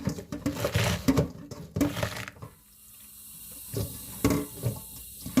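Squeezed garlic mustard leaves are rinsed by hand in a basin of water, giving close splashing and sloshing in bursts with a short quieter pause partway through.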